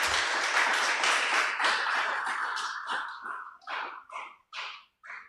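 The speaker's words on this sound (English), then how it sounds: "I think they deserve a mighty hand clap." An audience at the Uganda Law Society's Digital Transformation Festival 2025 launch applauds sponsor MTN Uganda. The dense clapping thins into a few separate, scattered claps before stopping.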